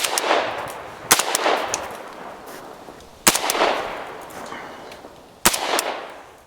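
An AK-74 rifle with a flashlight mount fires three loud, separate shots outdoors, each a sharp crack followed by a long, rolling echo that fades away.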